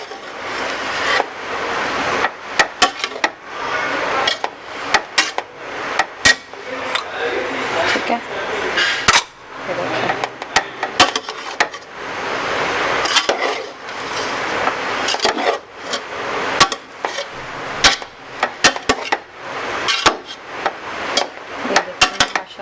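Chicken Chinese rice being stirred with black pepper in a pan, giving a steady run of scraping, rubbing clatter with frequent sharp knocks of the utensil against the pan, close and fairly loud, with a voice talking underneath.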